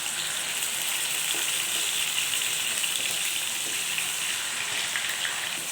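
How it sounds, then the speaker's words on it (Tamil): Marinated chicken frying in hot oil in a kadai, a loud, dense and continuous sizzle with a steady rushing crackle, close and unbroken, no voices. "ஒரு கடாயில் வந்து தேவையான அளவு எண்ணெய் விட்டுக்கோங்க. எண்ணெய் சூடானதுக்கப்புறம் சிக்கனை ஃபுல்லாக போட்டுக்குவோம்."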